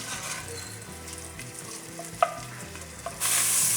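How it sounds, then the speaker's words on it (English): Sausage browning in oil in a pan for jambalaya, a steady close sizzle with occasional spoon stirs and a brighter hiss swelling near the end. "I'm gonna brown this until it's good and crispy, and that will create a flavorful fat on the bottom"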